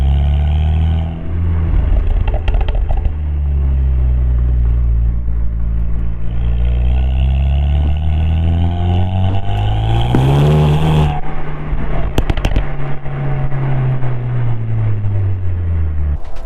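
A Renault Megane RS Trophy R engine with a valveless exhaust drones with a deep, throbbing note, revving up sharply midway before settling back to a heavy rumble.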